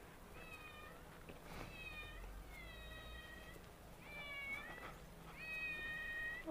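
A cat meows repeatedly at a distance, four or five drawn-out plaintive cries spaced apart over steady background hiss.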